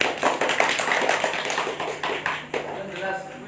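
A seminar audience claps at a religious gathering in Pati, a dense spatter of hand claps running steadily for a few seconds with some murmuring voices mixed in.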